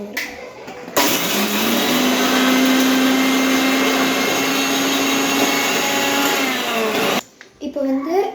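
A mixer grinder pulverises Oreo biscuits with a steady, high whirring roar that runs for about six seconds, then cuts off abruptly, leaving quiet handling noises.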